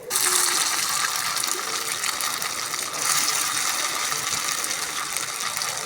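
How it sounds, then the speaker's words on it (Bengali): Noodle pakoras deep frying in hot oil, a steady dense sizzle and crackle that holds close and loud throughout, with no voices. "এখন একটা একটা করে সবগুলো ভেজে নেব।"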